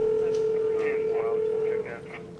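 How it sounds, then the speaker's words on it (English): A steady electronic beep tone holds for about two seconds, then cuts off; faint background murmur underneath. "The sound you hear, that is an incoming text."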